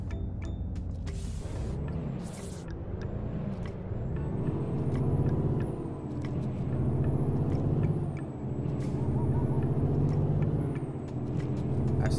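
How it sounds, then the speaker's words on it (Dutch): A heavy truck with an empty trailer labors uphill in Euro Truck Simulator 2, its engine droning and rising in slow swells, with sharp air-brake hisses near the start and faint high whines repeating over the rumble. "Hij heeft nog wel een beetje moeite mee deze vrachtwagen om naar boven te komen"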